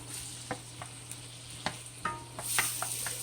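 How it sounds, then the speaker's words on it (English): Onions and peppers cooking in a pan, a low continuous sizzle with scattered scrapes and taps of a utensil stirring them, the frying growing brighter and louder near the end. "I'm going to let these onions and peppers cook about another couple of minutes"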